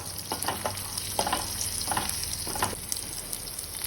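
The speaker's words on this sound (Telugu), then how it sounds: "ఒక కడాయి తీసుకొని అందులో ఆయిల్ వేసేసి ఆవాలు, జీలకర్ర, కరివేపాకు, ముందుగా దంచుకున్న ఎల్లిపాయ వేసేసి కొంచెం మగ్గనివ్వాలి" Mustard seeds, cumin, curry leaves and crushed garlic frying in oil in a kadai: a continuous close sizzle with a few brief crackles and spatters.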